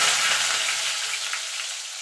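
Potatoes go into hot tempering oil and fry with a steady, bright hiss of sizzling that starts loudest and eases slightly, close-up with no talking.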